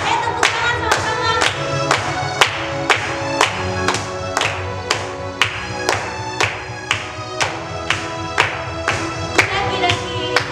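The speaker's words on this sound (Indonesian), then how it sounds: "Ayo tepuk tangan sama-sama." A church congregation at a Sunday school service claps together in a steady, even rhythm, sharp regular hand claps repeating about every half second over a backing of music.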